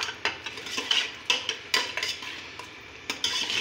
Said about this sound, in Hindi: इसमें हम काली मिर्च ऐड करेंगे और इसको हिलाएंगे